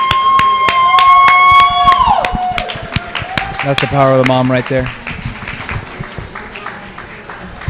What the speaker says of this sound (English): Let's give a round of applause for our boy Charles.